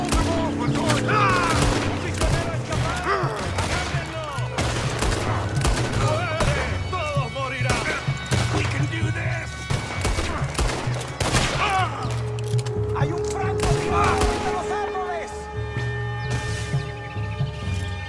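Rapid bursts of gunfire in Red Dead Redemption 2, a dense fusillade of sharp cracks scattered through the clip, with voices shouting and talking over the shooting.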